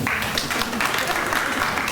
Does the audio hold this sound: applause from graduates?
yes